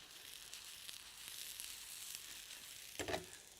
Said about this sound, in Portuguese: eu a cebola não deixo fritar mais do que isto